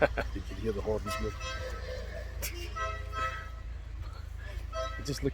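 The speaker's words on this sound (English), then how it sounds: "You can hear the horns move." Old-fashioned horns on vintage cars at a rally in a Scottish country park after rain, tooting in short bursts over a busy outdoor crowd with people talking nearby.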